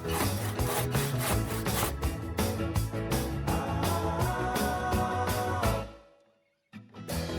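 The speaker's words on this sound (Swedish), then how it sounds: "Såga av stolparna." Steady back-and-forth strokes of a hand saw cutting through wooden deck railing posts, loud and close, running rhythmically before stopping abruptly, then a brief knock.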